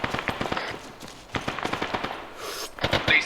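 Automatic gunfire in the military shooter game Arma 3: rapid bursts of sharp shots, some close and some more distant, crackling in irregular volleys with brief lulls and no speech.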